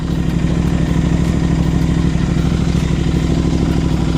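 A Royal Enfield Interceptor 650 twin idles in neutral close up, its loud, steady, even-pulsed thrum mixed with a light mechanical clatter throughout.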